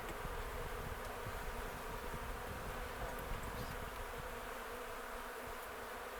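A swarm of honey bees hums around an open beehive during an apiary inspection, a thick continuous buzz filling the air at a steady loudness with no speech.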